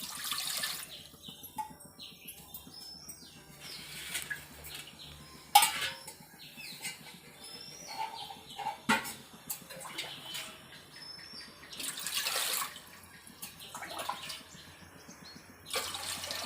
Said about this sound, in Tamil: இப்போ இதுக்கு தேவையான அளவுக்கு தண்ணி ஊற்றிடணும்.